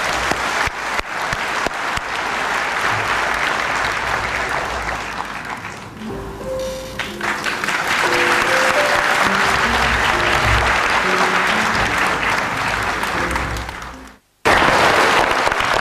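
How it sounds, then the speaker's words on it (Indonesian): A studio audience on a talk show claps long and loud, a dense sustained wash of applause with a short cut near the end before it resumes. "Aplaus untuk Raden Mas Sugeng."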